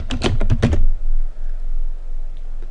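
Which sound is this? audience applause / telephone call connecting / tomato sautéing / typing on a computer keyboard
typing on a computer keyboard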